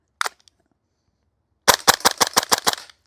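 Gas-powered Double Eagle DWS Lupus airsoft rifle firing one isolated shot, then a fast string of about eight sharp, loud, evenly spaced reports after a pause.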